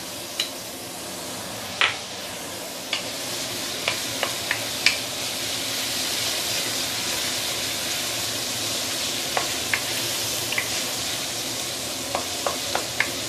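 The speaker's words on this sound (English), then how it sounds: "putting in some cooking oil. And we want to saute the garlic and" Garlic and shallot saute in hot cooking oil, giving a steady close sizzle with scattered sharp crackles and pops throughout, and no talking.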